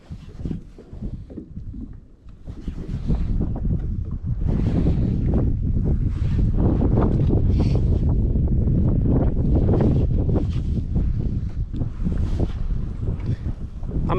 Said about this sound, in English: Wind's picking up, making it a little harder to feel the bites.